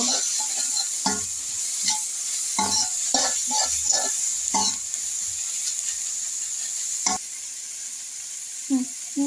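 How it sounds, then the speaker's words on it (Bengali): Chopped onions and crushed garlic fry in a pan for a jackfruit curry, giving a steady close sizzle broken by repeated scraping stirring strokes, with no speech over it. "নেড়ে দেব।"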